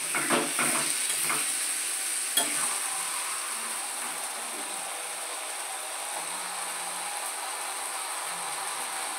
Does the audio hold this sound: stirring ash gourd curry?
yes